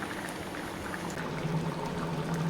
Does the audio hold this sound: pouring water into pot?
yes